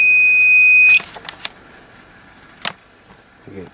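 Multimeter continuity tester giving a sustained, steady high beep for about a second as its probes are shorted together, then cutting off, followed by faint clicks and handling noises.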